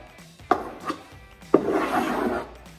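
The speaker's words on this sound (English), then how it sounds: "So, I can scrape with my heel." A tap dancer's heel scrapes on a wooden floor: a few sharp taps, then a longer rasping scrape lasting about a second, close and fairly loud with no voice over it.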